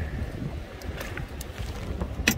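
Strong wind blows across Eulwangni beach on Yeongjongdo at night, a continuous low rumbling buffet with gusty surges and rustle, loud and close to the microphone.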